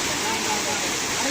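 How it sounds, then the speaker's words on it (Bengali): Khoiyachara waterfall in full monsoon flow, a dense, steady roar of rushing water, loud and close, filling the whole short moment without a break. "জাস্ট ঝর্ণার সাউন্ডটা শুনুন।"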